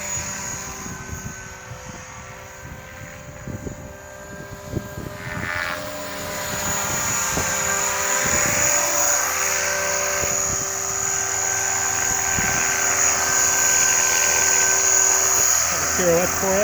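An HK-500 radio-controlled helicopter flies with a steady buzzing whine from its rotors that shifts in pitch as it moves, while someone talks over it in the first half.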